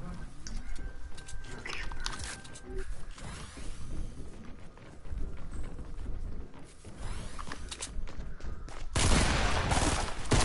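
Shotgun blasts and rapid gunfire in a Fortnite match, a dense burst of shots near the end over continuous game noise, with players' voices talking throughout.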